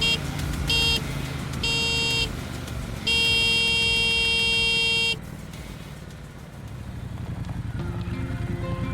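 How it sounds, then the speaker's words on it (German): Repeated motorcycle horn honks, several bursts of varying length, sounding over steady engine and road rumble while riding in Scotland. "um uns einzuholen, musste Lisa ordentlich ihre Hupe quälen"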